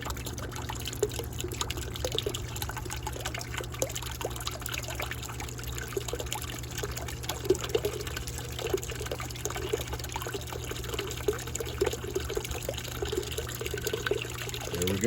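Water flows steadily from the return line of a Navien NPE tankless water heater under descaling with a pump, a low continuous trickle and splash with faint background hum and no talk.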